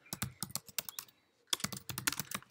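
Quick, close bursts of computer keyboard typing as a meeting title is entered, with a short pause before a second flurry of rapid keystrokes.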